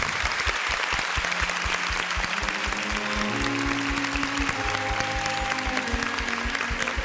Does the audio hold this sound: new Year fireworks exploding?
no